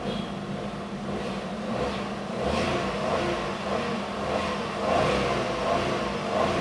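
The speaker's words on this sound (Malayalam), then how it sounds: "ഞാനൊന്ന് ആക്സലറേറ്റ് ചെയ്യുകയാണ് വാഹനം" A car engine revving up and easing back with its battery disconnected, a steady mid-range drone that swells in a few rising surges, heard close without talk.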